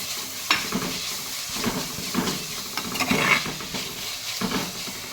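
Vegetables are stirred in a hot, sizzling pan after salt is added, while cooking a coconut-based dish. Irregular scraping stir strokes and soft clanks sound over a steady frying hiss, close and moderately loud.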